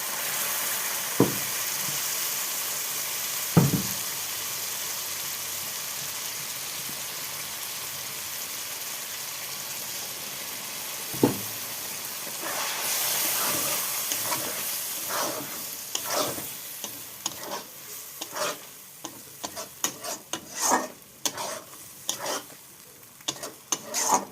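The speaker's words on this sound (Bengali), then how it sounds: "মিক্সিতে যে সর্ষে বেটে রেখেছিলাম তো দিয়ে দিলাম" Ground mustard paste sizzles in a frying pan during Bengali home cooking: a steady, moderate hiss with scattered stirring clicks and scrapes that grow busier and louder in the second half, with no voices.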